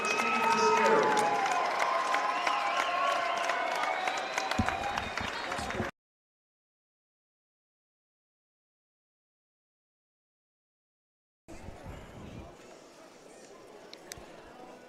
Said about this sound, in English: please give a round of applause for all the academic accomplishments our fall student athletes achieved this year